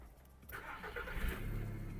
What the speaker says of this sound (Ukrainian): Автомобіль завівся з півтику, не димить, не троїть.